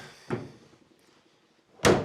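Closet door in an abandoned 1964 house shut twice: a softer thud, then a louder slam about a second and a half later, with quiet room tone between.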